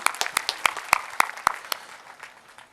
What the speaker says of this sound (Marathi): टाळ्या वाजवा जोराने.